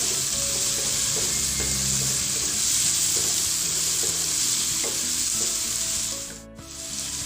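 Seasonings are stirred into yellow-spiced tuna frying in a pan, a loud continuous sizzle with scraping stir strokes throughout that fades briefly near the end.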